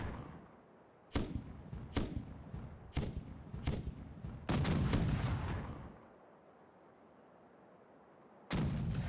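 Pirate ship cannons fire a broadside in the Caribbean Legend game as a run of four sharp booms at roughly even intervals, then a longer rumbling blast that fades out, with one more shot near the end.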